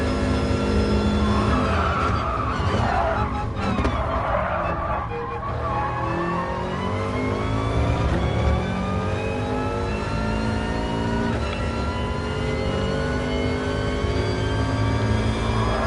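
Race car engine in Gran Turismo Sport, Sardegna track, a small-turbo car, droning loud and steady throughout with rising and falling revs through gear changes, no talk.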